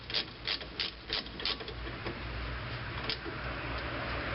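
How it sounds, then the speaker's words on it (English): Ratchet clicking as a 17mm lower brake caliper pin bolt is tightened on a 2005 Scion tC rear disc brake, a quick run of close, sharp clicks followed by steadier, quieter ratcheting. "finally now torque down this final 17mm lower pin bolt"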